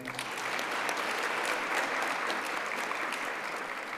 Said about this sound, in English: Another round of applause to her.